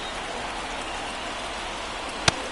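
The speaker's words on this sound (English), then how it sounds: "It feels like we might be headed towards a rain delay if the weather doesn't ease up, Chris." Steady rain falls over a Phillies vs Yankees baseball game in MLB The Show 24 as an even, hissing wash of noise, with one brief sharp click near the end.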